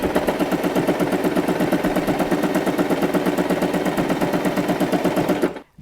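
A sewing machine stitching two pieces of throw material together for a pet bed, a fast, even rattling run of needle strokes close up, going nonstop for several seconds and then stopping abruptly.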